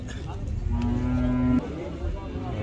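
A single cow moos for about a second, close and clear, amid a low murmur of outdoor crowd noise at a livestock market in Zharkent.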